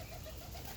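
Birmingham roller cock birds in a loft give soft, low cooing that blends into a steady, faint background murmur, with no voices.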